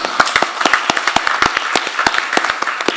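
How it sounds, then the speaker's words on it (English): Applause from a school board meeting audience for a student presenter at the podium: a burst of many hands clapping, with sharp, fairly close individual claps standing out over a dense, steady patter. "Let's give her a round of applause."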